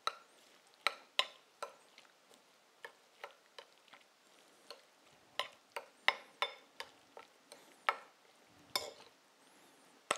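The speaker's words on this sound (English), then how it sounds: "I will go in and mix everything up now." Spoon tapping and scraping in a bowl while mixing tan tan chawanmushi, a run of irregular light clicks and knocks, close and fairly quiet, with no talk.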